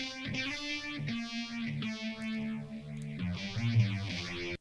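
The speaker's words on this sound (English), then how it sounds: "and I've got auto tune again, and a little bit of a phaser, and reverb as well" A sustained electric guitar tone sweeps up and down through a phaser, washed in reverb, with notes shifting slowly and no voices.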